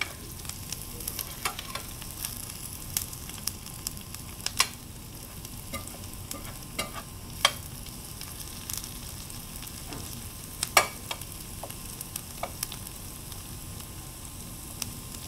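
Onions and garlic sizzling in browning butter in a pan, a steady soft frying hiss scattered with sharp pops and crackles, close and unaccompanied by speech.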